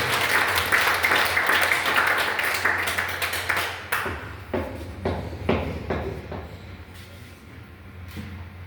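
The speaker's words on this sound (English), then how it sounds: "Please give me a round of applause." An audience at a digital media session bursts into loud, dense applause for about four seconds. It then thins out into scattered individual claps that fade away.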